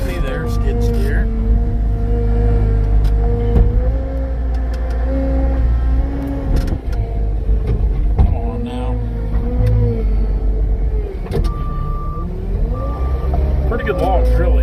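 A skid steer loader works near a tracked Case IH shelling corn, its diesel engine droning and revving up and down close by while someone talks over it.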